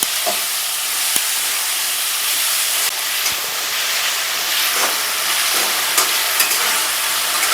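Mango stir-fried with spices and dal in a pan, a loud, continuous sizzle and hiss with intermittent scraping stirs and clinks, close by and without talking.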